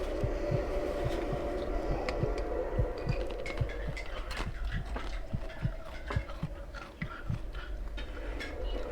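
A steady, looping heartbeat sound effect in The Escape Together, a horror escape game set in Hollow Gate Mansion, thumps in an even rhythm under a constant low hum and background game noise throughout.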